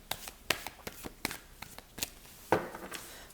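A deck of tarot cards is shuffled by hand, a quick series of soft, crisp riffling snaps in an irregular rhythm, close and fairly quiet, with no talk.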